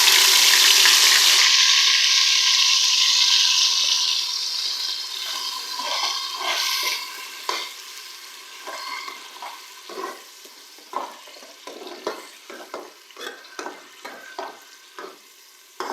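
Onion paste hits hot oil in a pan for restaurant-style white chana cholay, opening with a loud rushing sizzle that gradually fades into quieter frying broken by repeated sharp spatula scrapes and stirs, close with no talk.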